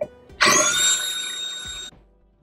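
A power drill bores a hole into a terra cotta pot, a loud close grinding whine that starts abruptly, holds steady for about a second and a half, then cuts off.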